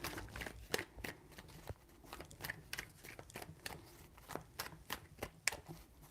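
Tarot cards are shuffled close by in soft, rapid riffles and taps that come in uneven bursts at low volume.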